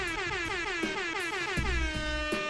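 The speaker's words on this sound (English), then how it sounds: "Give myself the air horn." An air horn blares in repeated stuttering blasts with falling and rising tones, layered with thumping hits, loud and close.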